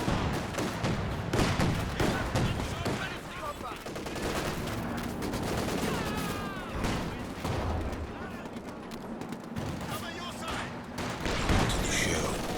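Machine gun fire and scattered gunshots amid battle noise in the strategy game Company of Heroes 2, repeated bursts over a dense, busy background at moderate level.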